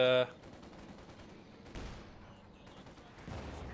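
Gunfire in a World War II strategy video game crackles in scattered bursts after an opening tone, fairly faint and distant, with a louder volley near the middle and another near the end.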